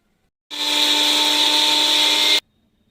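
A mixer grinder grinding roasted spices whirs loudly at a steady high pitch for about two seconds, starting and stopping abruptly.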